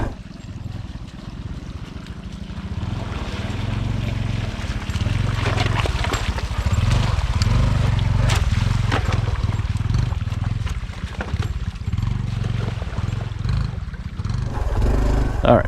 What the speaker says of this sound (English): to riding through a creek. And a really rough little creek this one is.